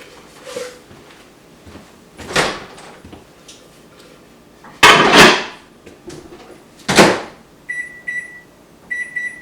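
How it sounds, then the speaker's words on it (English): Clunks of a microwave door and button presses, a low hum while it cooks spaghetti squash, then a series of short beeps at the end. "We're gonna throw it in the microwave"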